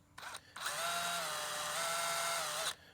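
A power drill bores a pilot hole into the metal door of a vertical pellet smoker, with a brief start, then a steady close whine for about two seconds before stopping.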